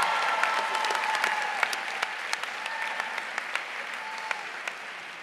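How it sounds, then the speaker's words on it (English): Sustained applause from a large audience at the SAR High School Class of 2014 graduation, a steady wash of clapping with a few sharper claps standing out and faint voices mixed in. "one more round of applause for Lauren and Ethan"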